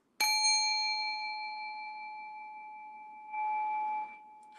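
A single strike on a meditation chime, sharp and bright at first, leaving a sustained pure ringing tone that decays gradually, with a brief soft noise late in the ring.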